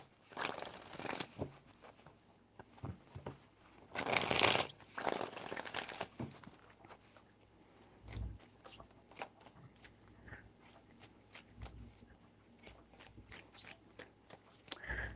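Tarot cards being shuffled in several short riffling bursts near the start, then quieter handling and soft taps, alone without talk.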